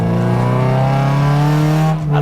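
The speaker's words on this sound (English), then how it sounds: "these things are ridiculously loud, completely straight through exhaust" Race car with a completely straight-through exhaust heading out for qualifying, a loud, close, sustained engine drone with strong harmonics, holding steady with a slight dip at the end.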